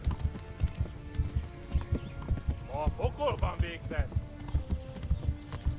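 Horse hooves clip-clop steadily in the medieval role-playing game Kingdom Come: Deliverance, a loud, regular rhythm of hoofbeats close by, with a shouting voice and a brief whinny in the middle.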